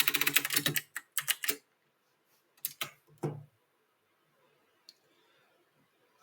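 Bursts of typing on a computer keyboard as a search term is entered: rapid clustered key clicks in several short runs, close and clear, separated by quiet pauses, with one isolated tap near the end.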